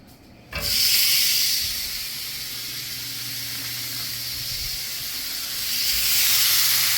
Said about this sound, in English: time for the steaks to go into the frying pan